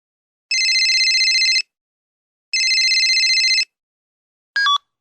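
A telephone rings with two long electronic trilling bursts separated by a pause, then a brief cut-off third ring, clear and loud against silence.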